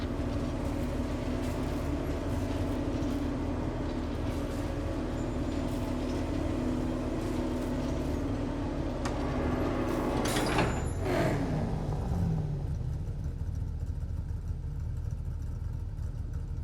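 A train in the video game Batman: Arkham Knight rumbles and hums steadily, with a loud metallic screech and clatter swelling near the middle before easing back to a lower, continuous roll.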